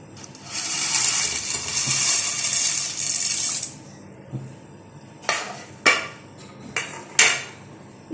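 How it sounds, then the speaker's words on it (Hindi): Three kinds of dry pasta are dropped into a pot of heating water, first a long hissing rush, then a run of sharp, close clinks and rattles against the pot. "ये तीनों पास्ता जो है वो इसमें डाल देंगे।"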